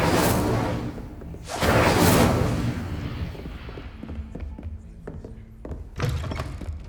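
An Incendio fire spell cast in the Hogwarts Legacy video game, broad whooshing bursts of flame with heavy thuds, followed by smaller crackles and a final burst, loud and close, with no voices.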